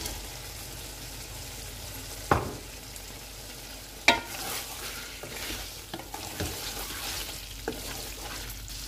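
Mutton cooks in a pot, a low simmering sizzle broken by a few sharp clanks and scrapes of a stirring utensil against the metal, fairly quiet and close, with no voices.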